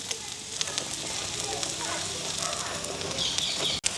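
Chillies and curry leaves frying on a hot stone griddle for kottu, a soft continuous sizzle with faint crackles and a brief knock near the end.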